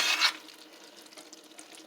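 Marinara sauce being stirred in a pot on the stove, a brief scraping swirl with faint sizzling, loudest at the start, then a quiet simmering hiss and a sharp utensil clink at the end.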